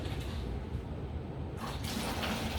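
Tap water runs steadily for washing before prayer, a continuous broadband rush close by that shifts slightly in tone partway through, with no voices over it.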